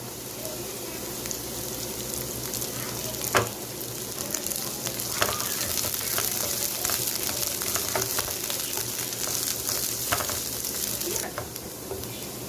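Cabbage goes into a pan of hot oil with softened large onions for veg noodles, giving a steady, soft sizzle with a few sharp stirring clicks and scrapes, fairly quiet and with no talking.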